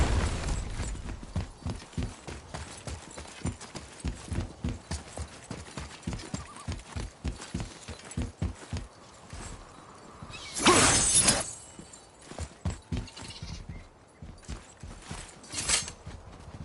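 Horse hooves clip-clop in the God of War video game in a steady, brisk rhythm of close hoofbeats, with a brief louder burst of crashing noise partway through and a faint mechanical undertone.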